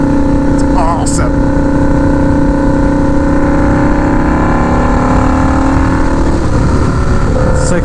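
A turbocharged Harley-Davidson V-Rod drones loudly and steadily while being ridden at partial throttle, its engine note rising slowly under heavy wind rush, with a brief voice at the start.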